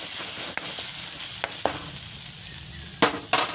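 Turmeric dropped into soybean chunks and raw banana frying in a pan, a soft steady sizzle with a few sharp stirring scrapes and clicks of a spoon against the pan, close up and with no talking.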